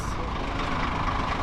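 Heavy diesel buses rumble steadily at a busy bus station on a road trip from Blantyre through Harare to Johannesburg, with a broad idling and engine drone close by and no clear separate events.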